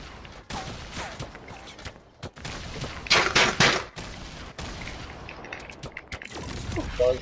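A grenade launcher fires in a video game firefight amid repeated sharp gunshots and loud explosive cracks, with a cluster of heavy blasts in the middle, while a person talks excitedly over the action.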